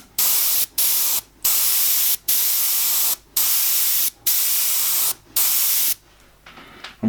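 Airbrush misting paint onto an owl painting, steady loud hissing sprays in repeated bursts separated by short pauses, close up and alone.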